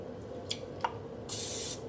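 A short hiss of cooking spray into a muffin tin follows two faint taps, quick and close in a quiet room.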